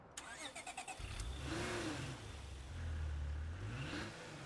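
A pickup truck engine in State of Decay 2 clicks through a quick starter rattle, then catches and revs in low rising and falling surges up close.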